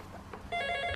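A telephone rings indoors, the trilling bell starting partway through after a moment of quiet room noise, short and fairly clear.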